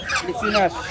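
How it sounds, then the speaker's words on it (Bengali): A Chinese goose honks loudly and close by at a century-old village market in Mawna, Gazipur, Bangladesh, giving a few harsh, nasal calls in quick succession. "চীনা হাঁস।"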